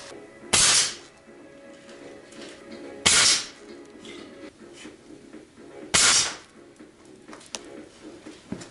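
A QEV .22 caliber pellet gun at 600 psi fired at wood, three sharp hissing pops spaced a few seconds apart, each loud and close over a quiet background.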